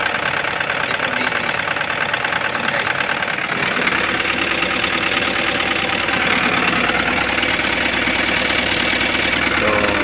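A Hyundai County bus engine starts and settles into a loud, steady idle, a close, continuous diesel rumble with a rhythmic knocking texture that holds without a break.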